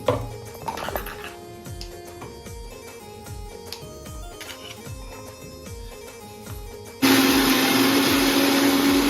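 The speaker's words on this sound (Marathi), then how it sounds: "आता पहिला मिक्सरला लावते" A mixer grinder coarsely crushes green chilli, ginger, garlic and cumin for Maharashtrian dhapate. Scattered knocks and rattles come first, then the motor kicks in with a loud, steady whirring grind close by that runs to the end.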